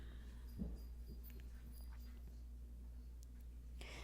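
A tired dog just back from a walk gives a soft, brief whimper, faint and close in an otherwise quiet room with a low steady hum.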